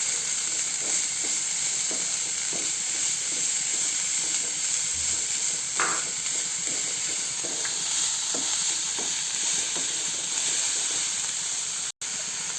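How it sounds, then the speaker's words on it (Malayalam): Sliced onion and green chillies sauté in a pan, a loud continuous sizzle and hiss with regular scraping knocks as a spatula stirs them, heard up close with no one talking. "പിന്നെ മേലേക്ക് പച്ചമുളക് ഇട്ട് കൊടുക്കാം. എന്നിട്ട് അത് നല്ല രീതിയിൽ ഒന്ന് വഴറ്റി കൊടുക്കാം."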